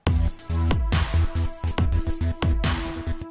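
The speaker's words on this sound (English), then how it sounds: "So now we have a cool stuttering bass, but this boring pad lingering over it." A choppy, stuttering synth bass pulses in rhythmic bursts while a sustained pad tone hangs steadily over it.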